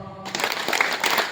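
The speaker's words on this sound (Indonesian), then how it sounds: "Tepuk sing tenanan." A group of people at a Maulid Nabi gathering clap their hands together on cue, a short burst of claps starting a quarter second in after a faint voice, fairly close and brief.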